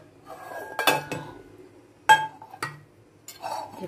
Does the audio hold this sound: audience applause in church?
no